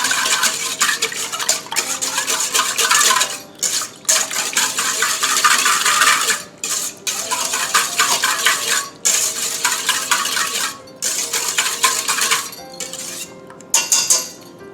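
Whisk scraping and clinking against a bowl while egg and other beignet batter ingredients are mixed, a steady busy metallic stirring with brief pauses, close and fairly loud, no talk.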